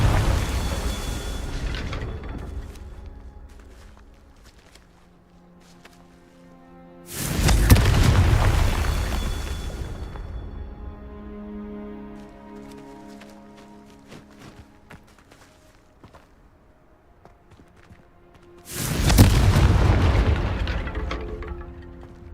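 Confringo spell blasts in the Hogwarts Legacy video game: three loud, booming explosions spaced several seconds apart, each decaying into rumbling debris, with quieter in-game movement and effects between them.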